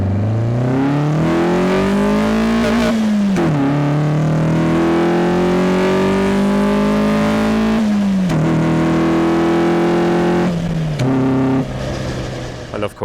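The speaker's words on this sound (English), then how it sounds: "A cone air filter, we have got the factory airbox in the boot, which is a nice touch, but this really does make a funky noise." Car engine fitted with a cone air filter in place of the factory airbox, revving repeatedly with a loud, near intake roar rising and falling in long sweeps, under some talk.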